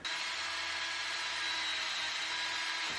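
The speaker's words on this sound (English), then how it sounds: "Just going to find the center point of my cart here and drill a hole" A power drill bores a hole through a camera gantry cart, its steady high-pitched whine running loud and continuous for about three seconds before cutting off at the end.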